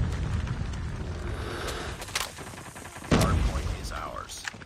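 Gunfire in a first-person shooter match, loud close shots with a heavy blast a little past midway and scattered game effects, under a player talking.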